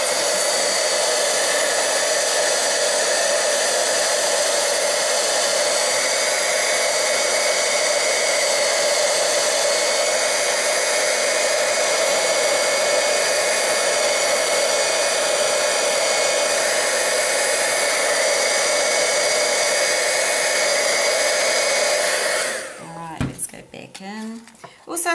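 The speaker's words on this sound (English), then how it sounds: "Let's get the heat gun quickly on those." A heat gun blows steadily on distress oxide ink for over twenty seconds, a close, loud, constant whirring roar, then cuts off, leaving brief clatter and handling noises.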